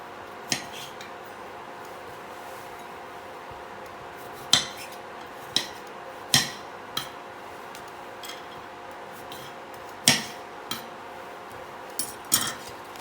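Scattered light clinks and taps of a utensil against a dish as salad with tomato quarters is mixed, with about a dozen sharp knocks at uneven intervals over a quiet background.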